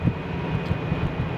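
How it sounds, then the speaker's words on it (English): A Case IH FPT diesel engine lugging down while pulling a tanker uphill, a steady low labouring drone heard close and loud with a faint whine above, over a short stretch. "hear the engine lug down. It's pulling that tanker up"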